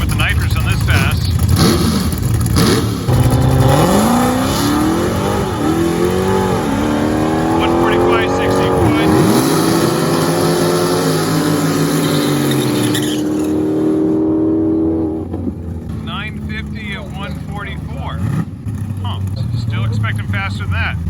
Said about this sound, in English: Redeye Charger is going to be running with the Nitrous on this pass